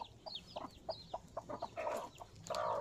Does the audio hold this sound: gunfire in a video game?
no